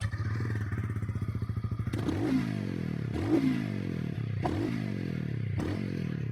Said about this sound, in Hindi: बाइक का साउंड कैसा रहने वाला है